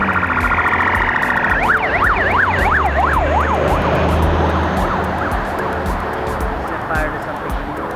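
Police siren wailing on a street, rising and falling sweeps that fade as the vehicle moves away, over steady traffic noise with a voice talking nearby.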